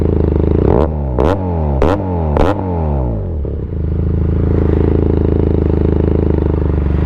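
A QJ Motor SRK 400 motorcycle exhaust is blipped four times in quick succession, each rev sweeping up and falling back, then the engine settles into a loud, close, steady idle.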